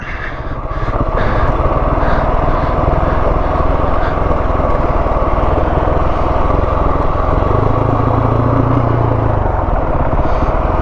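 A Husqvarna 701 Enduro motorcycle climbing steep high-country terrain, its single engine droning loud and close in a continuous buzzing note that rises briefly in pitch near the end as the rear wheel spins.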